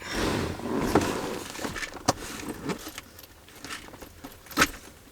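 Keys jangling close by while someone settles into a car seat, a few sharp metallic clinks and rattles scattered over five seconds against soft rustling.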